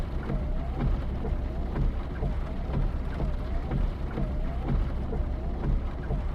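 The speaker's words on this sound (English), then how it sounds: "Sure is raining hard." Steady, heavy rain pours continuously with a low rumbling undertone in Final Fantasy VII Remake, while faint tonal chirps repeat at a regular beat in the background.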